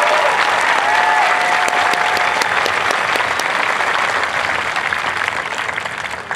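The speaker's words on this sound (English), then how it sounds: "Let's give them a big round of applause." Crowd applause at an Air Force Basic Military Training graduation parade, a broad outdoor wash of clapping and faint cheers that holds steady and then gradually thins toward the end.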